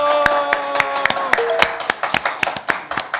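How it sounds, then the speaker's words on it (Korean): A studio audience at a Korean current-affairs talk show gives a short burst of applause, with sharp individual claps close by that grow sparse and ragged as it fades out. "국민TV 시사 토크 맘마이스 여러분의 힘찬 박수와 함께 시작하겠습니다"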